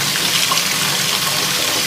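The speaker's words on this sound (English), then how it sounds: "running a little water on the watch" Tap water running over a MIO Alpha heart rate watch, a steady, close gushing splash that stays loud and even from start to finish, with no speech.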